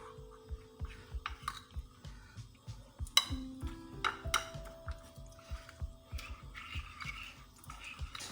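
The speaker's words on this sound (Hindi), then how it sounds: "कॉर्नफ्लोर अच्छा सा मिक्स हो गया।" A spoon stirs a cornflour and water mixture in a bowl for the sweet dish Lab-e-Shireen, making steady, rhythmic scraping and tapping strokes, close and fairly quiet, with no talking.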